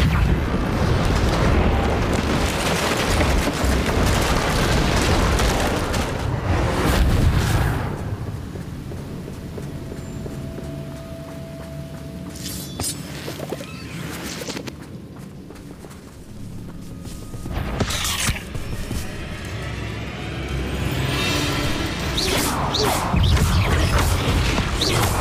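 Reparo repair spell rebuilding a damaged bridge in Hogwarts Legacy on Nintendo Switch: heavy rumbling and grinding with deep booms, easing to a quieter stretch midway, then swelling loud again with crunching, shifting debris.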